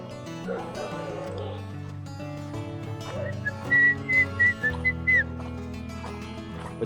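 A small dog barks in a few short, sharp bursts near a hidden waterfall in Kormala, heard over steady music and background sound.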